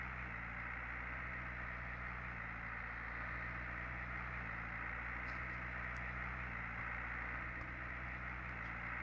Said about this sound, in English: it's louder sitting next to the engine than it is being away from the engine